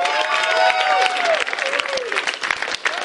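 A studio audience applauds to welcome a singing funeral-home employee onto the stage of a talent show, a dense wash of clapping with light cheering and a sustained musical tone underneath.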